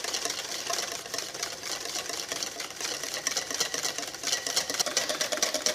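Oil being whisked by hand into mayonnaise in a bowl, heard as a steady, fast, rhythmic scraping rattle of the whisk, close and continuous with no talking.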